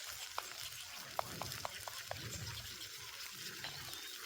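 Squirrel gravy is stirred in a pot over an open fire, a low bubbling simmer broken by several sharp metallic taps of the spoon against the pan, with no talk.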